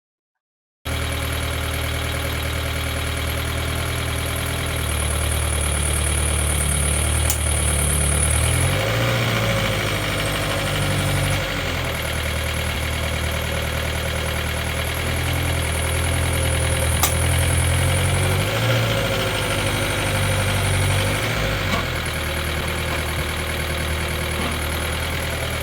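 A van engine idles and runs steadily, loud and close, with slight load changes as it is driven back onto a driveway; no talk.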